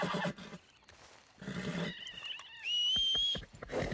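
A horse in a western video game whinnies twice, the second call a long, high, shrill neigh, with faint game ambience and soft thuds between the calls.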